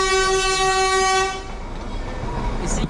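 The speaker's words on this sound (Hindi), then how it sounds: "ये है टॉय ट्रेन, इसी में हम राइड करेंगे" A Darjeeling toy train sounds a loud, sustained horn toot close by, which then cuts off, leaving a rumbling, noisy outdoor roadside background with faint traffic.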